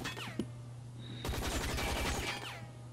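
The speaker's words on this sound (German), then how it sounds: "ich schieße immer schön gegen die Wand" Automatic gunfire sprays against a wall in the video game Hazard Ops, a brief shot, then a sustained rapid burst of loud rounds lasting over a second before cutting off, with background game sounds.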